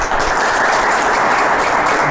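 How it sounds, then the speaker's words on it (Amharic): A studio audience at a lively Ethiopian entertainment game show claps continuously, a dense, close, uniform burst of many hands with no speech over it. "ለሁለቱም ነው ለአራቱም ነው ያጨበጨባችሁ"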